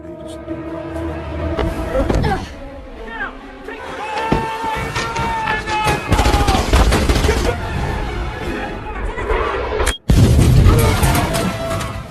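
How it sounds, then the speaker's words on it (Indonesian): Gunfire and an explosion from the action film Salt, as an agent shoots at the President's guards and then blows himself up, with dense, loud bursts, cracks and booms running throughout amid a busy cinematic mix. "hneider tiba-tiba berpamitan kepada Salt dan menembaki pengawal Presiden dengan barbar sebelum meledakkan diri di sana"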